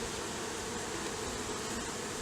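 Honeybees hum in a steady, faint, continuous buzz while being handled during varroa mite sampling, with no voices.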